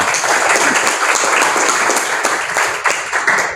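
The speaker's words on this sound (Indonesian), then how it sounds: "Terima kasih untuk ketua kelas, tepuk tangan." A classroom of students claps for their class leader, dense steady applause from many hands filling the room at close range, loud and sustained throughout without pause.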